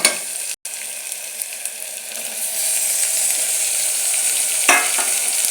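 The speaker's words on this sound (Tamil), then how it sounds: "இப்போ தக்காளியும் நல்லா வதக்கி விட்டுக்கலாம்." Tomatoes and onions sautéing in a pan with curry leaves and coriander, a steady sizzle with scraping stirs, briefly cut off near the start and swelling slightly louder toward the end, with no voice.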